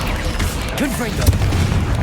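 Fiery booming blast from the Confringo explosion spell in the fantasy action game Hogwarts Legacy, set among loud battle noise and a spoken incantation with a rumbling low impact.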